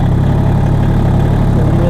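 A tractor engine runs loud and close on an off-grid woodland plot, a constant, low chugging rumble at a steady rhythm with no pauses.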